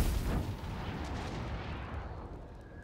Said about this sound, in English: We could do an explosion.